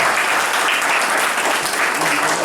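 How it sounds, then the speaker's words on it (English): A round of applause from an audience at a religious teaching gathering, steady dense clapping filling the whole stretch at close range with no voices over it. "Let's give our brother Minister a round of applause."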